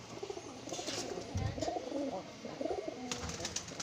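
A pigeon released by hand, with soft repeated cooing from nearby pigeons and faint flutter as it flies off, all at a low, steady level without speech.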